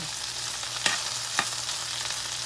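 Okra frying in a very hot cast iron skillet, a steady close broadband sizzle with two sharp pops or stirring clicks breaking through, no voices.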